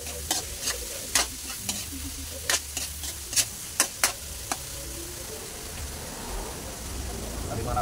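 Onions sautéing in a pan for a mixed seafood dish at home, soft steady sizzle under a series of sharp spatula scrapes and clacks against the pan, the stirring stopping in the later seconds.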